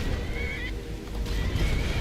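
A horse in the video game Skyrim lets out a loud, close whinny over a rumble of hoofbeats, with a second shorter neigh toward the end.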